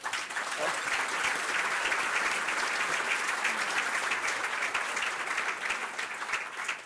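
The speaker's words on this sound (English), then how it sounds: "Let's give them a round of applause." Steady, sustained applause from a crowd, dense clapping that holds evenly for several seconds.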